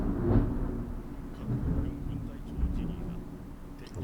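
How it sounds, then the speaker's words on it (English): Low rumbling thunder rolls through the whole stretch at a moderate distance, a steady broad murmur with a few swells and no sharp crack. "I wonder if you guys heard that lightning right now."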